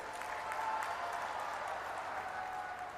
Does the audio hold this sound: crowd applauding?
yes